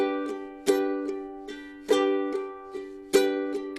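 Ukulele chords in a driving rock strum, with sharp accented strokes landing roughly every 1.2 seconds and lighter strums between them, played alone and close.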